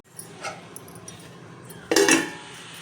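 A lid set down on a pot of appam batter, giving one short metallic clank and rattle after a quiet stretch with a faint earlier clink.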